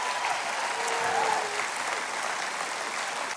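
A church congregation claps and cheers together, a dense, continuous burst of applause that holds level and close throughout.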